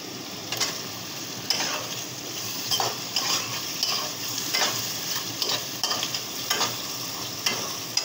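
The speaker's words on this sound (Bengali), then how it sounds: "এখন মাছ দিয়ে দিব।" Fish frying in a pan for a thin curry, a continuous sizzle broken by repeated sharp scrapes and clinks of a spatula stirring at an irregular rhythm, with no talking.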